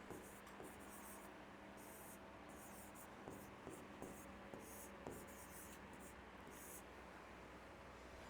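A pen scratches across paper or a board in short bursts of strokes, faint and close, over a quiet hiss with soft taps between strokes.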